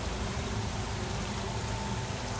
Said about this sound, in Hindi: खून की बरसात होने लग गई है।